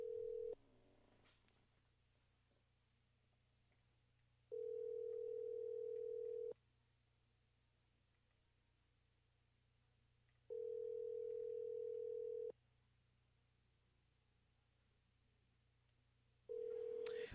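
Telephone ringback tone heard while a call is placed, a steady electronic tone sounding in repeated two-second bursts separated by longer pauses, clear and alone over faint background hiss.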